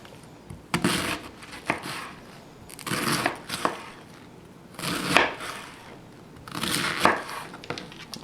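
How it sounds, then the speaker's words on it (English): A knife slices through a head of cabbage in half-inch slices for a low-fat chicken and cabbage stir fry: four crisp, crunchy cuts, evenly spaced about two seconds apart, close and clear with no talking. "I'm going to cut it into slices. And these are about 1/2 inch slices"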